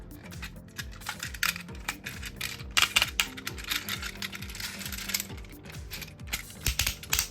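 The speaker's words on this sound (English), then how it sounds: "The back part is going to be like the hips and the legs for BRUTICUS, which you can fold up like this." Plastic parts of a Jinbao Bruticus Transformers combiner toy click and ratchet as they are folded into place, a steady run of close, light clicks and snaps with no talking.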